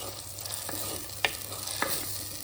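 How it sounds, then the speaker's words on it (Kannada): Masala frying in oil over a low flame for a village-style Mangalorean crab curry, a steady close sizzle with a few sharp stirring scrapes against the pan. "ಲೋ ಫ್ಲೇಮಲ್ಲಿ ಇಟ್ಟು ಮಸಾಲವನ್ನು ಚೆನ್ನಾಗಿ ಎಣ್ಣೆಯಲ್ಲಿ ಫ್ರೈ ಮಾಡಬೇಕು"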